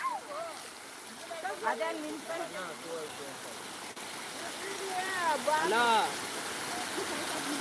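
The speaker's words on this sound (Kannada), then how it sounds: "ಇಲ್ಲಿ ನೀರು ಬೀಳ್ತಾವಲ್ಲ ಕೋಡಿ ಹತ್ರ" Water pours over a village dam overflow in a steady broadband rush, with people talking close by over the continuous roar.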